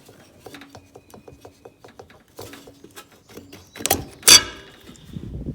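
Carburetor being worked loose and pulled off a lawn mower engine, a run of small scraping clicks and metal-on-plastic rubs, then a louder sharp rasp near the end, close and fairly quiet with no talk.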